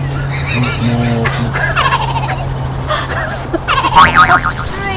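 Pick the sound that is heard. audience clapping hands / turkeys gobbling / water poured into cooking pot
turkeys gobbling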